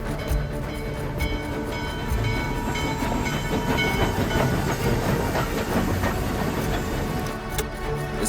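A train rolls past steadily and loudly, with a continuous rumble, rail clatter and hiss, and no voices.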